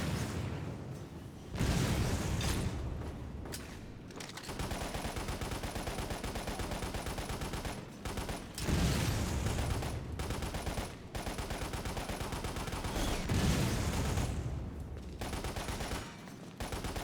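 In Lost Planet, a rifle fires in long sustained bursts of rapid gunshots, loud and close, with several short pauses between volleys.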